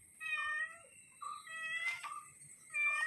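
A house cat gives three drawn-out, tonal meows close by, the middle one wavering into a plaintive wail, against a quiet outdoor background.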